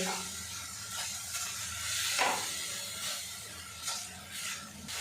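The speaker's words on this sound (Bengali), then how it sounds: "এবার এর মধ্যে দিয়ে দেব সাবু একটু নাড়াচাড়া করে নেব" Sago is stirred as it cooks in a pan, making a soft, steady hiss and sizzle with gentle scraping swells from the stirring. The sound is fairly quiet and continuous.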